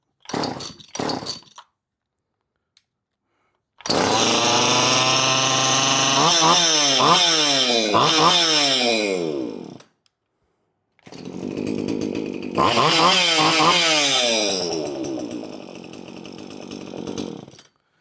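A Poulan Farmhand 2500 chainsaw engine, close and loud: a short sputter, then a long run with repeated throttle revs rising and falling, a cutoff, and another sustained run.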